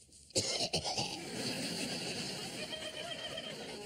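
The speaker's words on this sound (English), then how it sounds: "that would explain the cough then, wouldn't it?" A couple of sharp, raspy coughs burst out near the start, followed by continuous noisy background sound.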